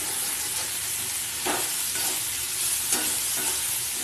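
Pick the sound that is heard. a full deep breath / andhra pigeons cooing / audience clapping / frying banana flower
frying banana flower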